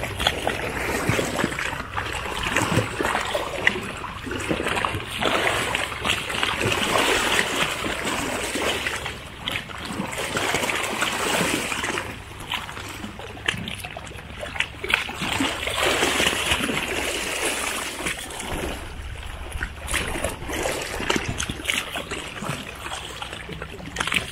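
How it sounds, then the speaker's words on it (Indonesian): Strong waves splash and wash repeatedly against the shore of a lake at a Samosir resort, irregular surges of water noise at moderate distance. "Ombaknya sangat deras sekali."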